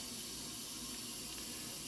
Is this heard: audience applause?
no